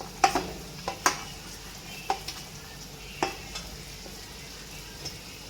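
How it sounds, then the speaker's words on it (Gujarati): Potatoes, carrots and capsicum being sautéed in a pan for upma, a soft low sizzle punctuated by several sharp spatula clacks and scrapes against the pan at irregular intervals, no talking. "તો આ બધી વસ્તુને સારી રીતે આપણે સાતળી લઈશું"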